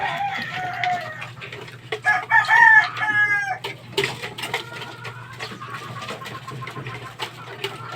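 Talisay broodcock fighting rooster crowing loudly nearby, one full drawn-out crow at the middle with other fowl clucking and calling around it, no talk.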